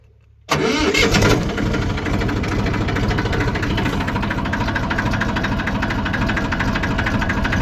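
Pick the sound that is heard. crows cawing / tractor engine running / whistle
tractor engine running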